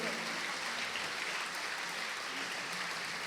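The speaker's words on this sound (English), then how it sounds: "let's give a loud round of applause" A steady round of applause fills a textbook launch event for history books for classes 6, 7 and 8, sustained and fairly even throughout without breaks.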